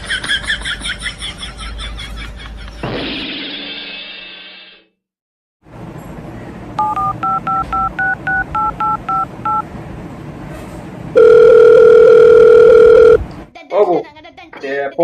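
Telephone keypad dialing: a quick run of short dual-tone beeps, then a longer steady tone, loud and close, between other noises in a comedy skit.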